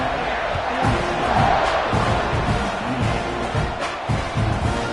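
A football stadium crowd roars and cheers at an Oregon game around a kickoff after a touchdown. The dense, sustained noise rises and falls slightly and stays loud throughout, with faint voices mixed into the crowd.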